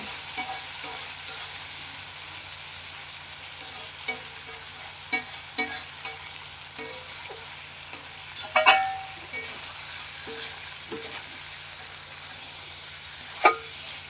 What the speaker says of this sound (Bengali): মাংসটা কষা হয়ে এসছে